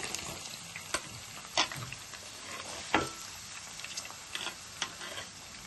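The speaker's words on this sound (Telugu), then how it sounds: "ఇప్పుడు మనం మీడియం సైజు 2 ఉల్లిపాయలు కట్ చేసి వేసుకోవాలి." Chopped onions dropped into hot oil with green chillies, frying with a steady soft sizzle and occasional sharp spatters and clicks of a spoon against the pan.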